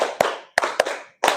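A group clapping hands in a counted rhythm during a classroom session, four sharp claps at uneven spacing with short ringing decay, close and clear with no talk.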